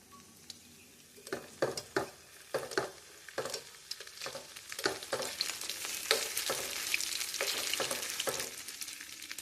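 Okra frying and being stirred in a kadai over low gas, a steady soft sizzle broken by repeated scraping and stirring strokes at an uneven rhythm, close and moderately quiet.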